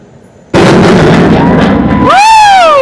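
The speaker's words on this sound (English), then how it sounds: "Wow, this jet is incredibly loud." After a quiet moment, an F-35 Lightning fighter jet's thunderous roar bursts in suddenly and stays very loud, ending with a shrill, rising whine, at an airshow in Dubai.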